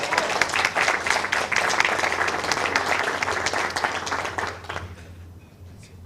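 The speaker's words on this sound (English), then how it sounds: "Yeah, let's applaud Van Oliver." Audience at a Rotary club meeting applauding Van Oliver, a dense roomful of clapping that holds steady for several seconds, then thins out and fades near the end.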